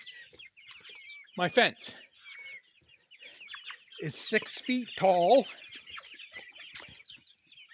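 Cornish cross meat chickens cluck in short bursts in an outdoor pen shared with laying hens, with several close, loud calls rising between stretches of a person talking.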